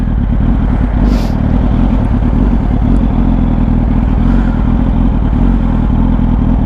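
A motorcycle engine idles steadily up close, a constant loud rumble with light mechanical clatter and no speech over it.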